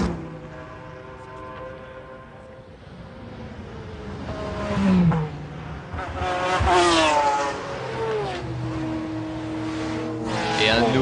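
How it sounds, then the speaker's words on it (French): A McLaren race car of the Schnitzer team lapping the Le Mans circuit in 1996, its engine note rising and falling as it passes, heard at moderate distance beneath steady commentary. "Dalmas qui va prendre un tour à la machine de Laffite, Soper et Duez, la McLaren du team Schnitzer"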